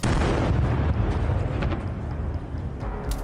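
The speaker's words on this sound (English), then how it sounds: "A Ukrainian kamikaze drone easily blew up this Russian tank." A Russian tank hit by a Ukrainian kamikaze drone blows up in a loud, sustained roaring blast with crackling bursts, dense and continuous throughout, fading only slightly toward the end.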